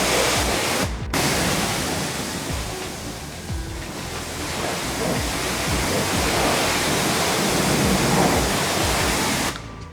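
Water spraying onto a car seat cover during a rinse, a steady loud broadband hiss that runs almost unbroken for several seconds before cutting off.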